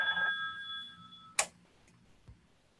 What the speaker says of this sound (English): I knew my phone was going to ring.